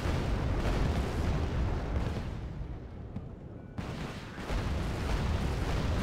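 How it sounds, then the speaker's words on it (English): Dense rumbling bursts of fire and explosions as RBS-70 missile systems launch in the Wargame: Airland Battle strategy game, a continuous loud barrage that briefly thins before surging back. "You can see them firing off these RBS-70s."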